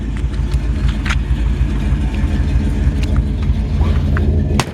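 Steady low rumble from the idling engine and exhaust of a 1957 Chevrolet 210 Handyman wagon, close and continuous with no voices, a few faint clicks and ticks riding above the drone.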